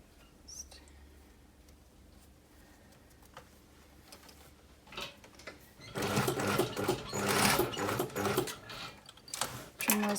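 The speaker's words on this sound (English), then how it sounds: "on the right side, I just sew along that line of existing stitching to secure" A sewing machine stitches along an existing line to secure the underarm seam of a cowl-neck blouse. It starts quiet with faint handling noises, then a loud, close, steady mechanical whirr runs for about four seconds.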